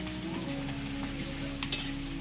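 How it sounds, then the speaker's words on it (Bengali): Garlic, cumin seeds and bay leaf sizzling in hot oil, a continuous close frying hiss with a low steady hum beneath and a couple of brief clinks near the end. "তেলটার মধ্যে একটু জিরে দিচ্ছি আর তেজপাতা। এর মধ্যে রসুন দিয়েছি"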